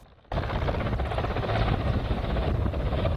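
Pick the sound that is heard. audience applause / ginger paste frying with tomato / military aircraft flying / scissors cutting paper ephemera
military aircraft flying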